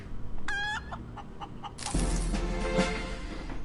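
A chicken in the space survival game Breathedge gives a short clucking call with a rising squawk, followed by a burst of loud game noise and rumbling effects.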